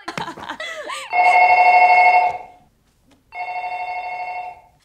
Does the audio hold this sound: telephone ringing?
yes